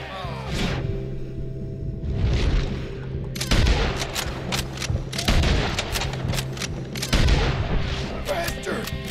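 Rapid gunfire from a Red Dead Redemption 2 gunfight, with repeated sharp shots and booming bursts landing in clusters over a steady low rumble, loud and close.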